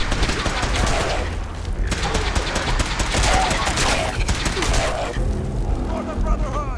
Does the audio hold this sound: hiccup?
no